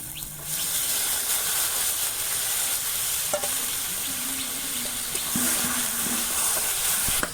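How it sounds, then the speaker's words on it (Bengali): Yogurt-marinated chicken poured into hot oil and spices in a village kitchen, loud continuous sizzling and hissing with stirring scrapes and a few sharp utensil knocks, no talking. "মশলাটা তেল ছেড়ে যাচ্ছে বৌমা এবার মাংসটা ঢেলে দাও দেখি ঢেলে দিচ্ছি"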